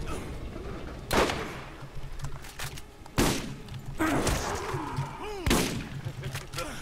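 Gunfire in the video game Borderlands, three loud shots spaced a couple of seconds apart over game ambience and a low hum, with fainter effects between them.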